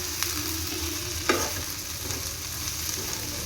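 Okra stir-fry, bendekai palya, sizzles steadily in a pan, with a soft continuous frying hiss and one brief scrape of the spoon partway through.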